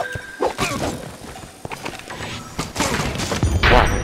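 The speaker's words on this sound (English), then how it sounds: "Wow, what a shot. Firework arrow." A firework arrow shot exploding in Minecraft Dungeons: crackling, popping explosions and thuds in a busy game soundscape, with several sharp bangs close together and a sizzling burst near the end.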